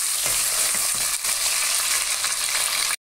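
Potatoes frying in a pan, a loud, steady, close sizzle with occasional stirring scrapes, cutting off abruptly at the end.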